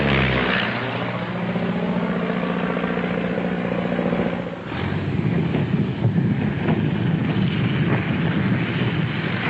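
A propeller airplane drones loudly and steadily on its way to Campinas, its engine tone shifting partway through as it comes in to land, with no talk over it.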